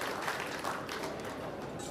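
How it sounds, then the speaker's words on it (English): An audience at a pool match applauds steadily from a distance, a soft, even wash of clapping with no talk over it. "Yeah, deserved round of applause."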